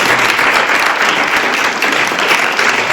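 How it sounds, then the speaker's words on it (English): A forum audience gives a guest speaker a round of applause, a loud, dense, continuous burst of many hands clapping close by, steady from start to finish. "Let's give him a round of applause"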